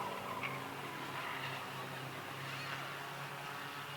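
Several race cars run together on a track, a steady broadband engine roar with tire noise filling the whole stretch, sustained and fairly loud without clear pass-bys.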